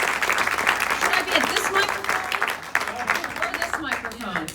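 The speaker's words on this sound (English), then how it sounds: "please let's give her a round of applause" Audience applause for the Nassau County Film Commissioner, a dense, steady wash of clapping from a crowd that runs through the whole stretch with voices mixed in underneath.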